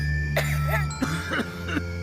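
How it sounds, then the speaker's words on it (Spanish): A few coughs, some raspy and throat-clearing, sound close and fairly loud over a steady background hum in a cough-syrup ad setting. "Cuando la tos entra en tu casa"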